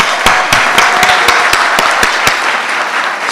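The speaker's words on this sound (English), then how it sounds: "Can we give them a round of applause?" An audience at a university book launch in South Africa applauds loudly, with one close clapper beating a steady rhythm of sharp claps over the broader crowd clapping throughout.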